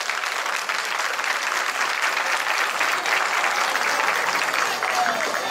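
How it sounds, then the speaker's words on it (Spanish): Crowd applause for Jesús del Rescate at a 2019 church celebration in Granada, a loud, dense, continuous roar of many hands clapping that holds steady throughout. "¡Aplauso a Jesús del Rescate!"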